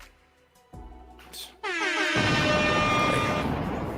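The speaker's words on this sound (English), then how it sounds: "Gotta play the air horns for that." A loud, blaring air horn blast cuts in after a brief muffled buildup and sustains steadily, harsh and brassy, filling the rest of the clip.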